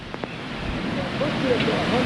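Storm winds of 60 to 70 mph roar steadily as a broad, constant rush with gusting swells, loud and close, with a brief voice near the start.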